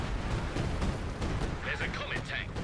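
Artillery fire in the video game Company of Heroes, a continuous low rumbling barrage with booming impacts, overlaid near the end by a few brief higher bursts.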